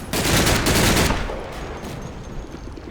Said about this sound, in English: coming under fire.